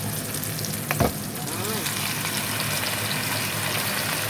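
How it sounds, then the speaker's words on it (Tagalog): Pork adobo sautéing in a pan gives off a steady, close sizzle and frying hiss throughout, with a short louder clatter near the start. "Gisa na natin ang adobo."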